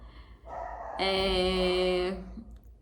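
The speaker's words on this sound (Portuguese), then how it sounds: "Me desculpem por esses cachorros, às vezes me irrita" Dogs barking close by, a short yip followed by one long drawn-out howling bark, with no speech over it.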